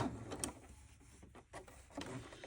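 An Elnita EC30 sewing machine running a straight stitch on a fabric scrap, a quiet rapid mechanical whir with rhythmic ticking and a short pause midway, close and faint.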